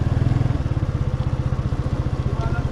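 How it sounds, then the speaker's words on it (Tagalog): A motorcycle engine idles nearby as the bike is parked, a loud, steady, rapid putter with even pulses and no pause. "parking ko muna itong motor"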